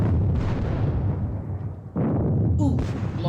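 Artillery fire in a Napoleonic wargame on the Katzbach battlefield, with a dense rumbling barrage and a couple of sharper booms standing out, while a voice speaks faintly underneath.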